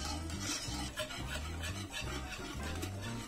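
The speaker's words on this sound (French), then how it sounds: "on y verse le mélange lait, froid, fécule de pommes de terre. Et on mélange." A cold mixture of milk and potato starch is stirred in a pot, giving soft, steady scraping and swishing strokes in a low, repetitive rhythm, heard alone and close up.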